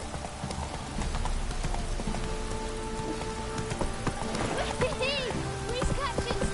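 Roach the horse clip-clops along at a steady walking pace in Witcher 3, hoofbeats close and even under pattering rain, while voices talk over the top.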